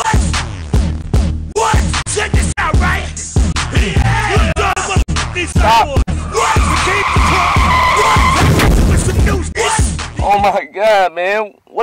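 A car skids hard with long, loud tire squeals in repeated bursts, engine revving close by, while people shout and talk over it; the sound ends abruptly after a final screech.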